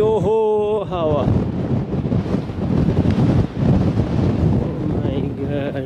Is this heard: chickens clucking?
no